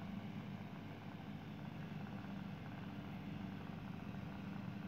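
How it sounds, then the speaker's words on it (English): A helicopter passes overhead outside a house as a steady, continuous rotor and engine drone, moderately distant and holding at an even level throughout, with no speech. "Oh, I got a chopper going over right now."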